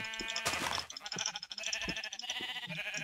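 Sheep in the Minecraft video game bleat in quick succession, a faint, quiet burst of bleats with softer game sounds continuing afterwards.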